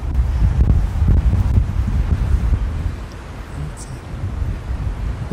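Wind sweeps across a golf course and buffets the microphone with a low, gusty rumble that rises and falls throughout, and people talk beneath it.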